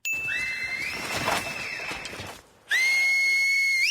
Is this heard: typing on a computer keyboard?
no